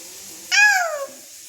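A single drawn-out meow, rising then falling over about half a second, sounding like a voice imitating a cat against a quiet background.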